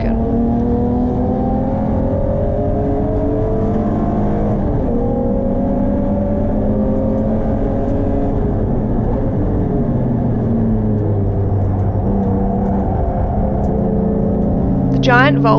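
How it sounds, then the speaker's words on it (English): Race cars in a pack at a circuit event at Taupo stream past at close range, loud overlapping engine drone with shifting pitch, while a broken BMW limps toward the pits; engines fill the whole stretch continuously. "the pack made its way past me, limping my BMW back to the pits"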